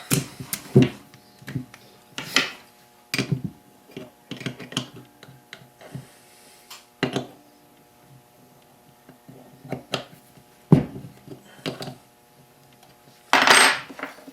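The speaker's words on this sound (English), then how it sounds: "First, take a 14mm wrench here for your choke." A 14mm wrench works on the choke of a Yamaha Road Star motorcycle carburetor, giving sharp metallic clinks and scrapes in irregular, separate bursts with quiet pauses between.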